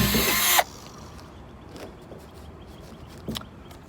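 A power drill bores a hole through a plastic rain barrel in a short, loud whining burst that stops abruptly, followed by quiet handling noises and a couple of faint knocks.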